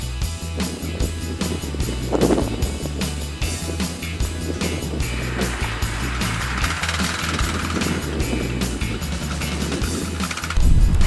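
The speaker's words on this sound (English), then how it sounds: "it's awful windy out here" Strong wind buffets the microphone outdoors on a hunting lease field, a loud continuous rumbling roar with gusting surges throughout and no speech.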